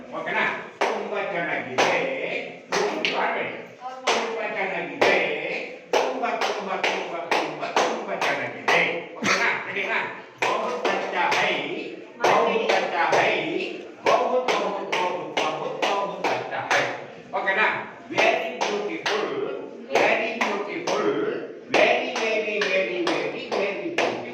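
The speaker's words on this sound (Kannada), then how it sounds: "ನಾನು ಚಪ್ಪಾಳೆ ಹಾಕ್ತೀನಿ ನೀವು ನೋಡ್ಕೊಳ್ಳಿ" A teacher and young children clap together during a classroom song-and-game activity. Sharp, close claps come in quick rhythmic bursts with short pauses between rounds, and voices run underneath.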